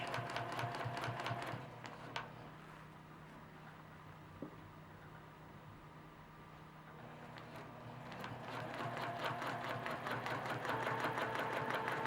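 A sewing machine stitches across dark blue fabric in rapid, rhythmic bursts, pausing briefly in the middle before resuming. The sound is close and fairly quiet, with no talking over it.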